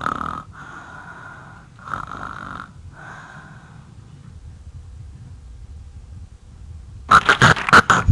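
A person imitates sleep-apnea snoring with their voice, producing three rasping, nasal snore rattles, then a long silent pause as if breathing has stopped, before a burst of loud choking snorts.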